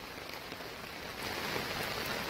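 Heavy monsoon rain in Nuapada pours down steadily in a dense, close hiss, growing louder partway through, with no voices.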